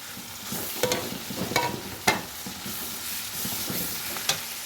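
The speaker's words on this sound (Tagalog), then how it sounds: "Luto na yung sibuyas tsaka yung bawang. Lagay na natin ang giniling." Ground meat hits a pan of frying onion and garlic, a loud steady sizzle broken by several sharp scraping knocks of the spatula as it is stirred.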